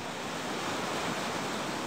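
A stationary river wave rushing continuously, a steady broad roar of churning whitewater heard close, with no voices.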